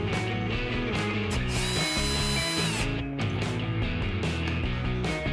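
A ratchet loosens the lower hinge of a fridge door, giving loud rapid mechanical clicking and whirring close by, with a brief bright high whine partway through and no talking.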